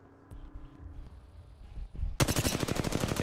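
Gunfire in Apex Legends: after a quieter stretch of game ambience, a loud, rapid automatic burst of closely spaced shots continues steadily to the end.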